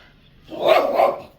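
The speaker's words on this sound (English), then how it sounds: "Yeah, I like this dog, yeah? It is very jovial" A single dog bark, close and loud, rising and falling over about a second, heard alone during an outdoor gathering about an East Coast Fever cattle vaccine.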